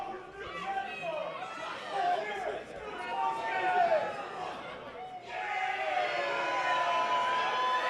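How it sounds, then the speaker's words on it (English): Wrestling arena crowd at a tag team title event rumbling with dense, steady chatter and murmuring after the post-game action, a continuous loud mass of many voices that swells brighter in the last few seconds. "Crowd here not appreciating the post game"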